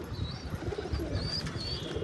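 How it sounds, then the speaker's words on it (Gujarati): Pigeons let out of their home coop coo and flutter close by, a dense mix of low throaty cooing with scattered high chirps and soft wing movement, continuous and fairly near. "હવે આ બધા કબૂતરને આપણે ખોલી નાખી."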